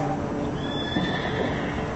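A horse trots during a dressage demonstration ride, its hoofbeats forming a steady rhythm within a busy outdoor arena ambience, with no clear speech.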